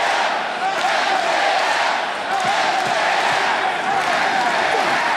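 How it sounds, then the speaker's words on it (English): Wrestling arena crowd at a professional wrestling title match roars steadily, a dense, continuous wash of cheering and chanting throughout, with no clear individual voices standing out. "Obviously, the crowd is behind MJF, and he responds to the chants."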